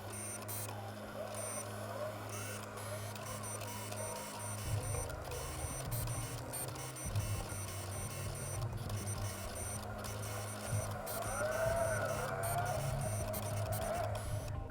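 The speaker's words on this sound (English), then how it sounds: "The machine will do the cutting for us." Cricut cutting machine cutting heat transfer vinyl, with a steady motorised whir and shifting mechanical tones as the carriage moves back and forth, moderately close and continuous without talking.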